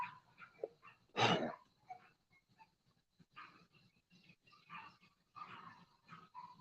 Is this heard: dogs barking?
yes